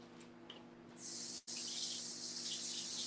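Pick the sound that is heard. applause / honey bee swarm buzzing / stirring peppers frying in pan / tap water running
tap water running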